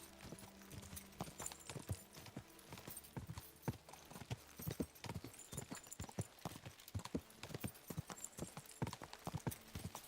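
A horse's hooves clip-clop in a steady, even walking rhythm in the video game Kingdom Come: Deliverance II, each strike sharp and distinct against quiet ambience.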